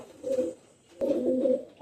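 A pigeon coos nearby in two soft, throaty phrases separated by a brief pause, with no talk over it.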